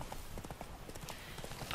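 Horse hooves clip-clop at an unhurried walk in Witcher 3: Blood and Wine, a run of quiet, close, evenly spaced hoof strikes.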